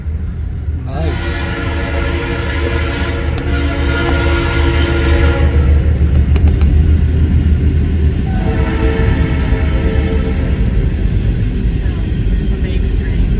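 A Norfolk Southern train rolls past close by with a loud, sustained chord horn blowing over the heavy rumble and clatter of railcars, the horn sounding twice before the wheel noise carries on alone.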